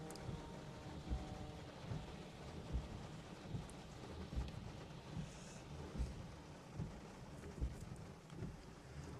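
Thunderstorm in the Gard department of Languedoc, with steady rain and wind rushing over the microphone and low rumbling thumps recurring at roughly regular intervals, continuous and moderately loud throughout.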